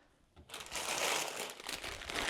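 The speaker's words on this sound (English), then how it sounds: "Sorry for all the rustling" Close, continuous crinkling and rustling of plastic poly bags being handled, starting after a brief quiet moment and staying loud throughout.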